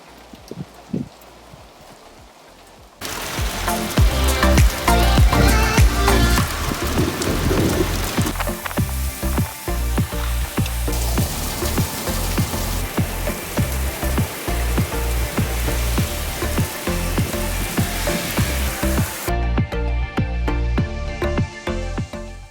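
Heavy rain starts suddenly and pours steadily on a surface outside a mini log home during an afternoon thunderstorm, a dense, loud patter with scattered drips, then cuts back to quieter dripping near the end.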